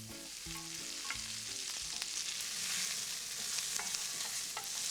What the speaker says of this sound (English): And now in the bacon fat, I can cook the onion.